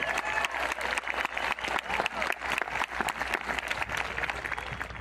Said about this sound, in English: can we give a tremendous round of applause to our teachers and staff, but you beat me to it